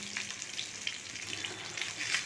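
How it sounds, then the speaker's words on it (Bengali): Pabda fish frying in a pan of oil, a soft continuous sizzle with small crackles and pops at moderate distance, steady throughout with no talking. "পাবদাগুলোকে আমি এইরকম একটু করে লাল লাল করে ভেজে নিচ্ছি।"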